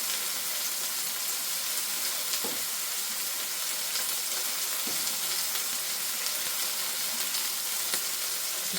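Food frying in a hot kitchen pan while it is stirred, cooked for steak with red wine and mushroom gravy. A steady, dense sizzle runs throughout, with a few soft stirring knocks and scrapes.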